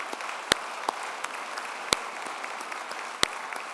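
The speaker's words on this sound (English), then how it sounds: "And let's give Mike a big round of applause for all of his leadership." An audience at an honouree fireside chat claps steadily for a leader, with a soft wash of applause and a few sharper, closer claps standing out.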